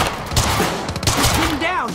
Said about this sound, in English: Target's armed! Opening fire!